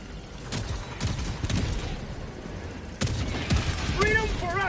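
Automated turrets firing in the shooter Helldivers 2, a run of sharp, rapid bursts of gunfire with heavy impacts, loud and close, ending in a warbling electronic tone, with a player talking over it.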